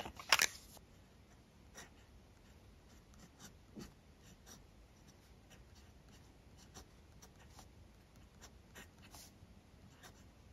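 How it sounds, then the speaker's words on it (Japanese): A Sailor Profit 21 fountain pen with a gold nib scratches across paper in soft, irregular strokes with faint clicks, quiet and close, with no voices. "これ金ペンはこのセーラーのプロフィット21を使ってみますね"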